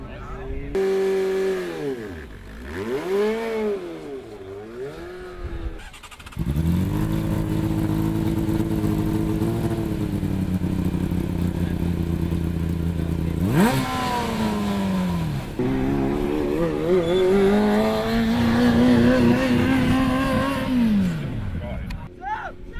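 A Birmingham City University Formula Student race car from 2011 drives into a braking zone, its engine revving up and down repeatedly, loud and close, with sweeping pitch changes through acceleration and deceleration.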